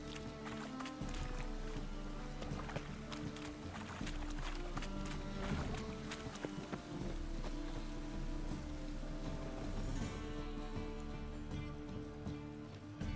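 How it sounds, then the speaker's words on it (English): Steady rain falls in the Witcher video game, a dense, constant patter mixed with low ambient game sound and music throughout, moderately loud with no talk. "Rain again. Damn mages."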